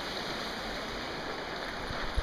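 Water pours steadily over a rock wall dam at King Water Mill, a broad, even rushing hiss heard from nearby, with a faint thump near the end.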